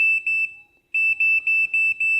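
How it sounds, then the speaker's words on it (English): MeatMate BBQ app's meat-done alarm for a lamb roast set to medium: a loud, piercing high electronic beep, a long tone, a brief pause, then rapid repeated pulses, indoors. "So you can see there, that's the alarm"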